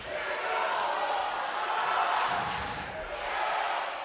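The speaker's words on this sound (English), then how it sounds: "And you can hear the crowd in the background." A packed gym crowd at a regional high school volleyball match between Sargent County and Maple River, chanting and cheering in a dense, continuous roar from the stands, heard from a distance.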